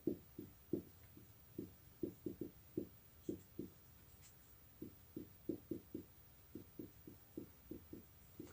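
Chalk or marker strikes a board while a definition is written out, giving a quiet series of short taps and scratches in irregular bursts, close by and without talk.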